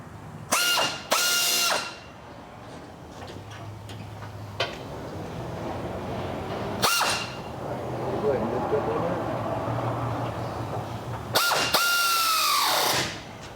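Mechanics work on the exhaust of a Ford F350 that is raised on a lift in a shop. Several loud, close bursts of an air-powered ratchet or impact tool whir and rattle, separated by quieter stretches of shop noise.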